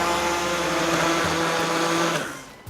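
Electric blender whirs loudly as it purees a mussel and parsley soup with cream and salted butter, a steady high motor drone that shifts pitch midway and then winds down to a stop near the end.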